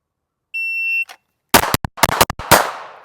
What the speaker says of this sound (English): Now we are shooting 147 grain